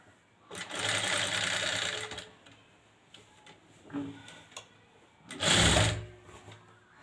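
Sewing machine stitching thread piping, two close bursts of rapid mechanical stitching clatter separated by quieter handling sounds and faint ticks.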